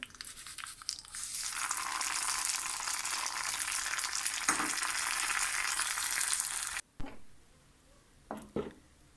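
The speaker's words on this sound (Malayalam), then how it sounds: "പിന്നെ ഇനി ഇത് താളിച്ചെടുത്താൽ മതി, കടുകും കറിവേപ്പിലയും ഒക്കെ ആയിട്ട്" Mustard seeds and curry leaves tempering in hot oil crackle and hiss loudly for several seconds, then cut off abruptly, followed by a few scattered faint clatters and crunchy handling sounds, no voices.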